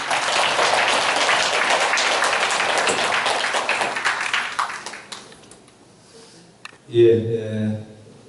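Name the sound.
audience applause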